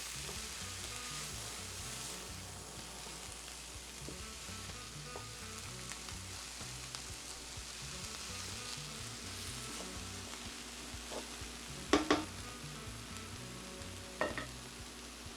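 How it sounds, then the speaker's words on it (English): Jamaican callaloo sizzling in a pot as it is stirred, a soft continuous hiss with a low background hum and a few sharp knocks near the end, with no talk. "I am going to stir the callaloo into the pot."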